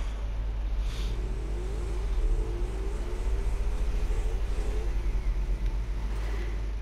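A motorcycle engine in GTA 5 hums and revs steadily during a race, its pitch rising and wavering as it accelerates, moderately loud and continuous with no talking.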